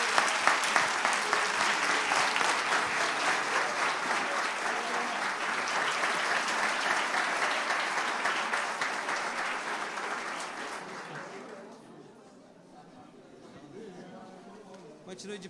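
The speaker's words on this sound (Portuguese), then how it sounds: "Vamos aplaudir Jesus." A church congregation claps together at a celebration service, loud sustained applause with a faint crowd murmur that fades away toward the end.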